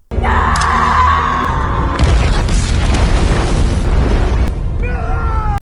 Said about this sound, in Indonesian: Miller pun tewas terkena ledakan